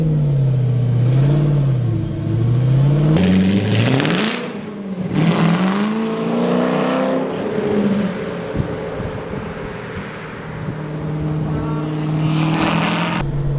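A 2017 Ford GT with a Hefner pulley, tune and exhaust system revs hard and loud, rising and falling in pitch through several bursts, with a deep rumbling exhaust throughout.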